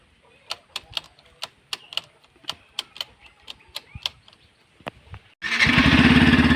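A new motorcycle fires up after a series of sharp clicks, its engine catching and settling into a loud, steady idle close by.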